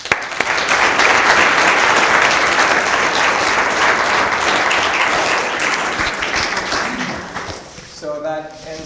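An audience at a memorial lecture breaks into loud, dense applause after a medal presentation, a sustained roar of clapping that fades toward the end as a voice begins speaking.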